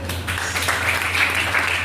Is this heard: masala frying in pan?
no